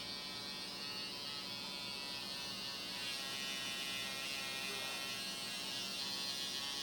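A tattoo machine with an adjustable needle buzzes steadily at close range, a continuous electric whine that holds even throughout with no talking over it.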